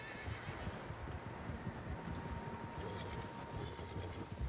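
In the video game Red Dead Redemption 2, a group of horses neigh and whinny, with clip-clop hooves, snorts and shuffling under a windy outdoor ambience.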